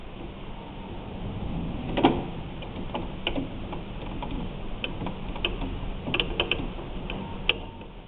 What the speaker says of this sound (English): we're going to put that screw back in